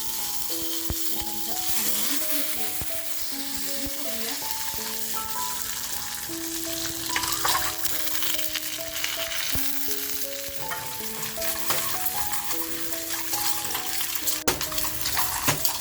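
Fresh coriander frying in hot oil in a pan, giving a steady, close sizzle and crackle with light stirring clatter throughout, no voices.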